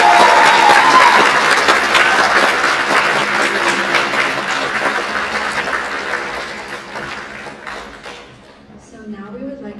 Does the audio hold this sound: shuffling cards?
no